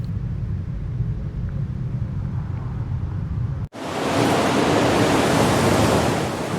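Strong wind of about 43 knots blows through a sandstorm near Lüderitz, Namibia, a low steady roar that suddenly jumps to a loud, broadband gusting rush partway through, with no voices.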